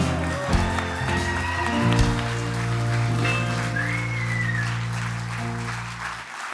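An audience gives sustained applause to an in-house band at a business event, with the clapping blending into lingering sustained musical tones and a few voices.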